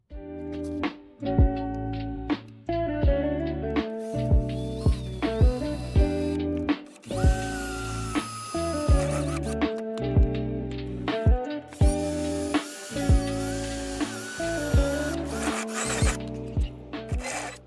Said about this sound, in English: I'm going to use a step bit for the 2 side holes and go from there.